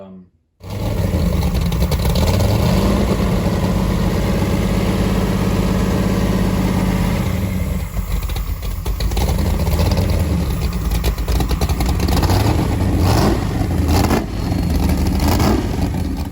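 A Chevy 496 big-block V8 runs on an engine run stand, starting abruptly with a loud, rumbling idle that holds steady, then dips and picks up again with small throttle changes.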